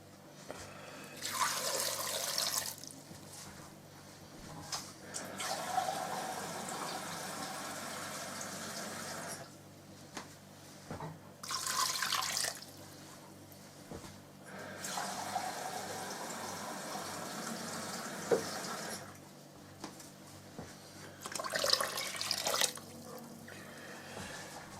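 Water runs in several separate bursts, each a few seconds long with short gaps between, as 1.5 litres is poured into a pot with potatoes and wild garlic for wood sorrel soup. It sounds close and moderately loud, with no talking.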